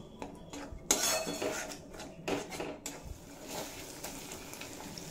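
Ground spice paste, mixed with water, is stirred and fried in a pan for a mutton jhol. A metal spoon clinks and scrapes against the pan in short bursts over a faint sizzle, with no voices.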